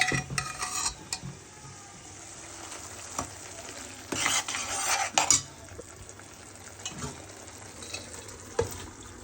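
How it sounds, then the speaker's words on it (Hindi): Boiled moth beans are stirred in a pan, giving steady scraping and clinking from the spoon over a soft sizzle, close and fairly busy throughout with no one speaking. "अब इसके अंदर हम डाल देंगे मोट, जो हमारी उबली हुई मोट है"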